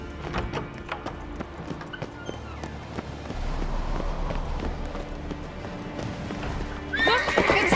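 Horse hooves clip-clop rapidly in a galloping rhythm, close and loud, with a sharp neigh breaking out near the end, in the video game The Witcher 3: Wild Hunt.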